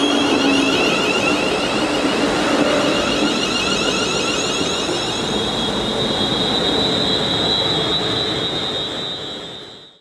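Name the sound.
Class 350 electric multiple unit train at Garston station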